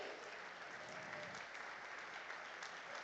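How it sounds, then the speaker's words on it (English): Audience applause at a university student induction ceremony honoring the chief guest, steady dense clapping from a large crowd throughout, fairly distant and soft. "Can we please have a huge round of applause and a standing ovation for our Honorable Chief Guest"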